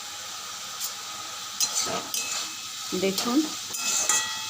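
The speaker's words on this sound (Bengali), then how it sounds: "এবার গ্যাস কমিয়ে কমিয়ে ভাজবো।" Banana stem (thor) frying in a pan over a low gas flame gives a soft, steady sizzle with occasional stirring scrapes, while someone speaks over it.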